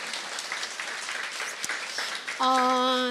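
A seated audience at a Korean talk gives steady, fairly soft applause that carries on for a few seconds, after which a sustained tonal sound comes in near the end.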